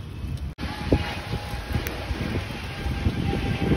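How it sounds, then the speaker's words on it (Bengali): A continuous heavy rumbling roar, like a train going by nearby, with wind buffeting the microphone and no talking. "ট্রেন যাচ্ছে।"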